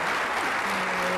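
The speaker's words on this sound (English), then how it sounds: "So I'm asking Tressie another round of applause" A conference audience applauds a keynote speaker, a dense, continuous clapping from a large indoor crowd, steady and moderately loud throughout.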